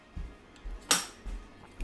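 A plate and cutlery rinsed under a tap at a sink give a few short clinks and knocks, with one sharper clatter of metal on ceramic, close and fairly quiet.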